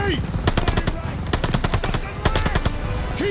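Rapid bursts of machine-gun fire from a battlefield in Call of Duty: Vanguard, loud and close, firing in quick repeated volleys with voices shouting faintly beneath.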